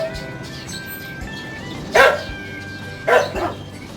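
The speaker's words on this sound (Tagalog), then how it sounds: "Pasensya na po kayo ulit kung maingay na naman po yung aso sa aming kapitbahay." A neighbour's dog barks outdoors beside a hut, two separate loud barks about a second apart, set against a steady background hum.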